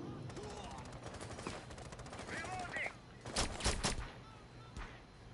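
Gunfire in the video game Rainbow Six Siege, a busy stretch of rapid shots and bursts with sharp loud cracks clustering near the middle and end, mixed with game effects and faint voices.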